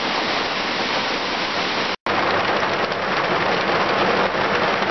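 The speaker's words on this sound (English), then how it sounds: "Listen to that rain come down." Heavy rain pours down steadily near a camper on a rainy day, a dense, loud hiss of drops with a brief dropout midway, with no voices.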